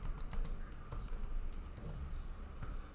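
Rapid keystrokes on a computer keyboard while a command is entered at a command line, an irregular run of close, crisp clicks with no talk.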